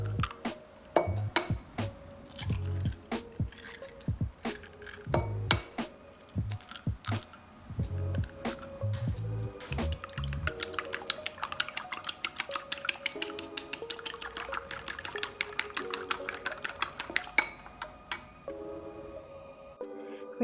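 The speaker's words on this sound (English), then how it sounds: "Crack the eggs in the bowl and beat them." Eggs cracked into a bowl for egg fried rice, then beaten with a utensil: scattered clinks and taps at first, settling into a quick, steady run of light whisking clicks against the bowl, close by and with no talk.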